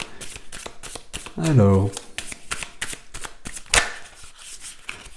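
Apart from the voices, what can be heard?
tarot cards being shuffled and drawn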